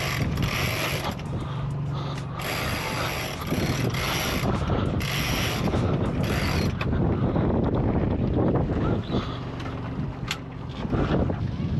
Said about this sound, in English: So we're now gonna head back up into the wind and try and pull up the main.